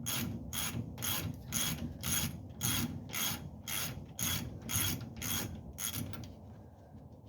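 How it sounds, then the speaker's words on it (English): A ratchet undoing the axle nuts on the full-floating rear end of a 1966 Ford F-250, clicking in about a dozen rapid, evenly spaced strokes close by, with no voices. "I am undoing all of 8 of these nuts"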